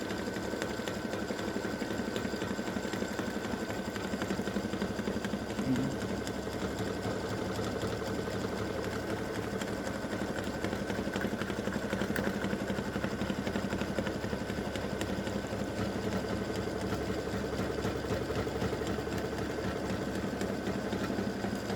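A machine embroidery unit stitches an in-the-hoop triple stand or hanging display with a steady, fast, even whirring rattle that runs unbroken throughout at moderate loudness.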